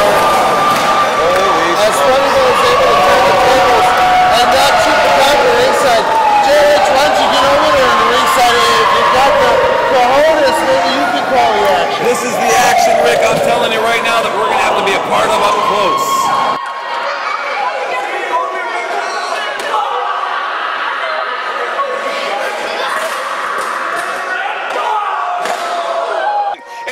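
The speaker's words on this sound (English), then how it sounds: "This entire crowd is going crazy." A loud wrestling crowd roars, cheers and yells at a Fresno street fight between El Chupacabra and Funny Bone. The dense roar stays steady under talking voices, then falls to a thinner crowd din about two-thirds of the way through.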